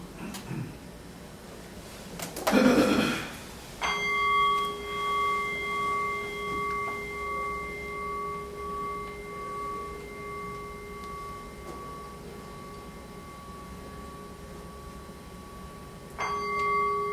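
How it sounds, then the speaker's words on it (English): An East Asian style meditation bell is struck once, then rings on as a long, steady, sustained tone that fades slowly over many seconds, followed by a second soft strike near the end; the setting is a formal meditation session. "we often start out meditation by one of these East Asian style bells"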